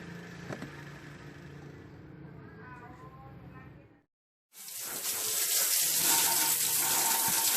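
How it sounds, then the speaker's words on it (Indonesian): Muffled background noise gives way after a brief silence to a loud, steady rush of water spraying hard against the underside of a Toyota Avanza or Daihatsu Xenia car. "Terakhir, kita siram dengan air semua bagian bawah mobil ini."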